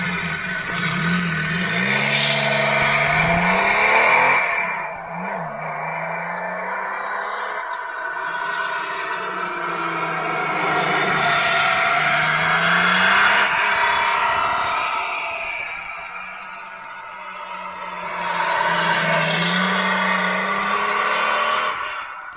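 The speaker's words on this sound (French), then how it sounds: "une mise en lumière de la voiture avec le son du moteur" A Porsche 911 engine revs repeatedly, rising and falling in pitch with throaty bursts and lulls between them, loud and close with no talking.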